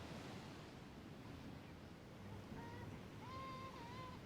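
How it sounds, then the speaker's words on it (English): Ocean surf rolls against the rocky cliff coast near Garachico, a faint continuous wash of waves mixed with wind rumble on the microphone, with a few thin tonal chirps near the end. "the waves over there, They're massive, right?"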